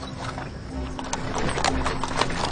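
A horse pulling a hansom cab along a city street gives rhythmic clip-clop hoofbeats against a steady background hum, fairly close and with no one speaking.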